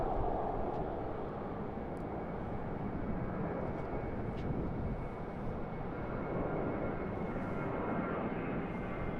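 A departing airliner climbs out of Sydney Airport, its engines giving a continuous broad roar that holds steady and fairly distant for the full length, with no voices.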